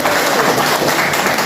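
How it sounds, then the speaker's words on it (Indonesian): An audience at a community gathering breaks into dense, steady applause, loud and close and filling the whole moment. "Tepuk tangan buat ibu tuh."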